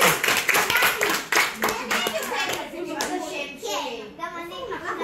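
Children clap their hands in a busy room, a brisk burst of slaps near the start that tapers off as young voices chatter and call out over and around it.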